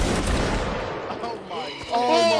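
A musket volley from Napoleonic line infantry in a Napoleonic Wars multiplayer line battle: a loud, dense, overlapping crackle of many shots that fades into rolling echoes, with a second burst near the end.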